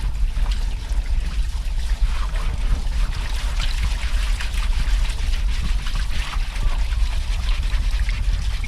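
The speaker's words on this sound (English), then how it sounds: "Just see that muck lifting with the old washing up sponge with the Scotch-Brite on it." A Ford Sierra Sapphire is scrubbed with a water-soaked washing-up sponge with a Scotch-Brite side, a steady close wet trickling and swishing that runs continuously without talk.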